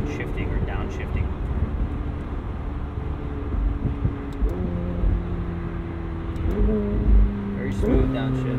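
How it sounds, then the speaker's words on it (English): A McLaren 720S Spider's engine drones from inside the cabin, its pitch dropping and jumping in several quick steps as it downshifts smoothly, with wind rush behind it. "Very smooth downshifts."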